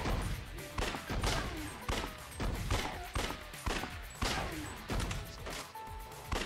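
Repeated gunfire bursts from the action video game Judgment come in a regular rhythm of loud, sharp volleys about every half second to second, close and dense, with game effects in between.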